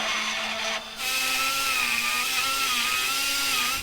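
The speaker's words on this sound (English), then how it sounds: "look and grind, look and grind, look and grind" A power grinder works steadily on metal while repairing a wrecker, giving a continuous close, high whine that briefly dips near the start before holding an even pitch.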